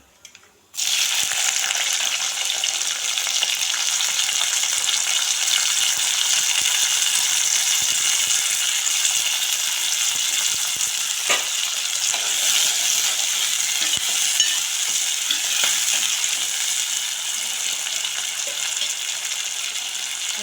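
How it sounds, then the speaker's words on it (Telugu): Cumin, onions and green chilies hit a hot pan with a sudden onset, then sizzle loudly and steadily throughout, with faint occasional ticks and rattles of stirring. "కొంచెం జీరా, ఆనియన్స్, పచ్చిమిర్చి వేసుకుందాం ఫస్ట్"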